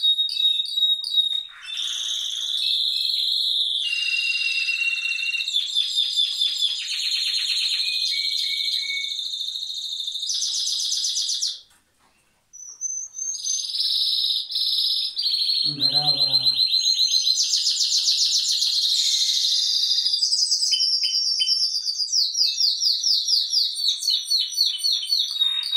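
Timbrado canaries sing with dense, ringing trills and rolling metallic tours, several birds layered close and loud almost throughout, with a brief pause near the middle and quick rhythmic chirps toward the end.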